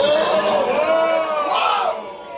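A studio audience cheers, whoops and eggs on a roast joke, a loud close burst of mixed voices that fades slightly toward the end.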